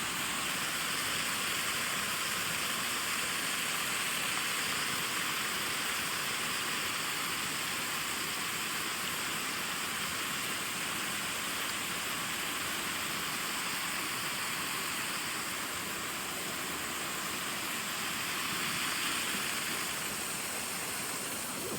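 Waterfall pouring steadily on a hiking trail, a dense, even rushing roar that holds unbroken and fairly close throughout.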